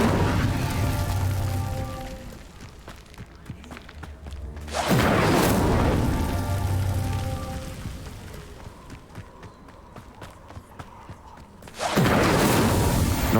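Incendio fire spell cast in Hogwarts Legacy: two loud whooshing, roaring bursts of flame several seconds apart, each flaring suddenly then fading, over a quieter bed of game music and ambience.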